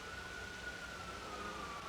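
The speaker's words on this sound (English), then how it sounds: "so I hope you can excuse the ongoing sirens to some degree." Police sirens wail in the GTA V NoPixel roleplay game world, a steady continuous tone running through dense broadband background noise for the whole stretch at moderate level.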